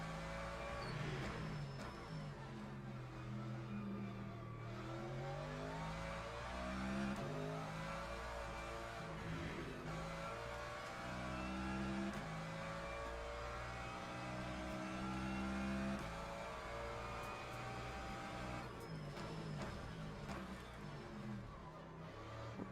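Race car engine in the Le Mans Ultimate sim racing game, a steady droning whine that rises and falls with the revs through shifts, heard at low volume.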